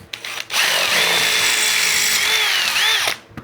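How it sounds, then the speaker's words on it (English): Power drill boring out a metal throttle cable fitting, a short loud whining burst of about two and a half seconds that rises and dips in pitch, heard alone at close range. "I'm gonna drill this out"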